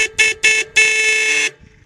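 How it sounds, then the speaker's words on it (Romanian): Horn of an electric tricycle sounding loud and close in three blasts, two short toots followed by a longer held honk, then silence. "Și mai avem un buton de claxon."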